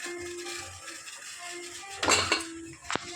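Dosa dropped into a metal vessel, with sharp clattering clanks of dishes in a home kitchen; two bright metallic bursts stand out over a steady low background hum.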